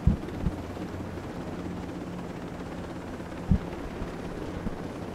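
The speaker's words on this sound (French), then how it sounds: "Putain, c'est un hélico." A patched-up military helicopter in Ghost Recon Breakpoint flies slowly at very high altitude, heard as a steady, distant rotor drone with a few soft thumps and no one talking.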